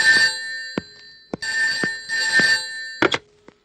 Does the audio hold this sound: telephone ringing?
yes